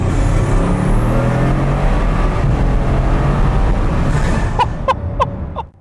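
Bugatti Divo hypercar engine roars loudly and steadily under hard acceleration with the windows down, then fades out near the end as a few sharp clicks sound.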